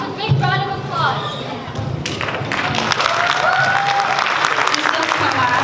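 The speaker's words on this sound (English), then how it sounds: "All right, ladies and gentlemen, with a big round of applause." An audience at a Nepali student cultural night at K-State bursts into applause and cheering that builds after a brief mix of voices, with an announcer speaking over the start.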